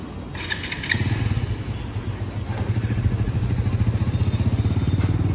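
Scooter engine idling with a steady, fast putter that runs continuously, close by, with a brief metallic rattle near the start.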